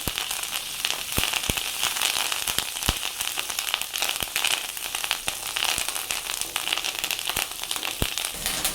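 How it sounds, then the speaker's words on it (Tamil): Curry leaves frying in a pan for a thuvayal, making a continuous crackling sizzle with sharp sputtering pops scattered unevenly across the sound, loud and close. "ஸோ அந்த கருவேப்பிலை நல்லா ஃப்ரை ஆகிற மாதிரி அப்படியே இது கூட அப்படியே மிக்ஸ் பண்ணி விடுவோம்."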